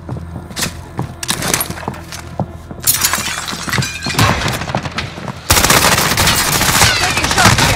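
Gunfire in the video game Warzone on Rebirth Island: sharp single shots and rapid automatic bursts ring out repeatedly, close and loud, swelling into a sustained heavy barrage in the final seconds.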